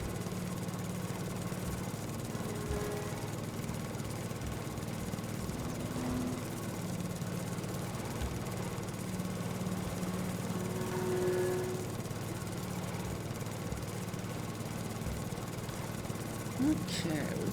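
A lawn tractor engine in Farming Simulator 22 drones steadily throughout, a constant low hum with slight tonal wavering as the mower climbs a steep hill, with a voice talking over it.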